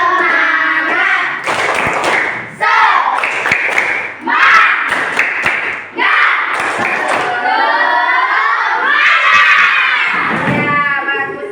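Schoolchildren in a classroom clapping in rhythm and shouting a spirited class chant, loud bursts of patterned claps alternating with children's voices calling out together, close and energetic throughout.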